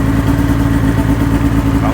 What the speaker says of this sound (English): About 5 minutes of idling at the higher RPM, and now it's kicked down a little bit here to 1700 or so.